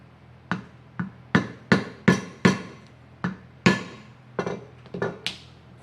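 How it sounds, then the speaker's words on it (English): A hammered metal punch strikes through a leather belt in a series of about a dozen sharp, close taps, some quick and some spaced apart, with no talking. "punch your hole."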